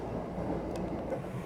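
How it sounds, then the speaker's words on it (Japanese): A Wakayama Line train in Japan, heard as a steady low rumble with faint rolling noise and a brief metallic tick partway through, no voices present. "列車は船戸駅に停車"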